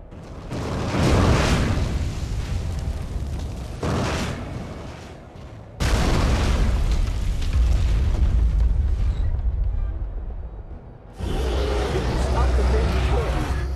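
Heavy, sustained booming blasts from an explosion in the video game Jade Empire, loud rumbling roars that cut off and restart several times, with game audio around them.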